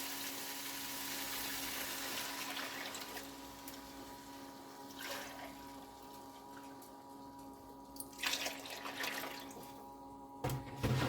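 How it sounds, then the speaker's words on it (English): Milk poured into a can, a faint steady liquid stream that trails off, followed by a few soft clinks and bumps of the can near the end. "we're going to take some milk and fill up this can twice."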